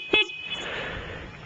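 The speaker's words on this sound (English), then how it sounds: "the horn is funny" A CT70 clone minibike gives a single brief, close beep of its horn, followed by a quiet hum.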